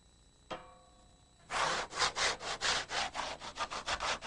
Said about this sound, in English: They're going to give it a scuff sanding now that the membrane is cured